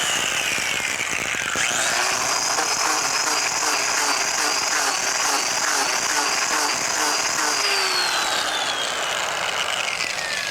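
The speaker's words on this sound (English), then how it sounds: "Basically, what we're going to do is we're going to grind that bottom paint off." A power grinder grinds old bottom paint off a boat hull near a rotten transom, a steady loud abrasive roar with a high whine that rises and drifts in pitch, running continuously without pause.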